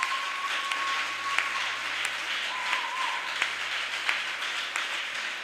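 A church congregation applauding during a French-language worship service, a sustained wash of clapping from many hands at moderate distance, with a faint held tone running beneath it.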